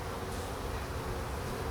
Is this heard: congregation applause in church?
no